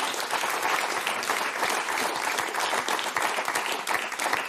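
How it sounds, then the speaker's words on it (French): Studio audience applauding the four contestants on the French word game show Motus: dense, steady clapping throughout, fairly close and unbroken. "on va applaudir nos quatre candidats"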